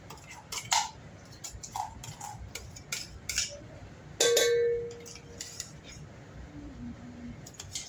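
Several sharp metallic clinks and scrapes of a spoon against a pot, scattered irregularly, with one louder ringing scrape near the middle; no talking.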